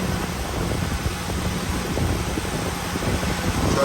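Engine cooling fan with a fluid-driven clutch spinning on a running vehicle, a steady broadband whoosh of moving air with a low engine rumble beneath, close and constant without voices.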